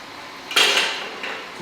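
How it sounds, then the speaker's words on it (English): A Thermomix crushes cookies for cheesecake base, a sudden loud whirring grind that swells, fades, then gives a second shorter burst, with no voices. "When I crush my cookies in the batch"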